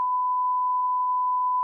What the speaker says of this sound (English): I'll tell you why and I'll beep it out.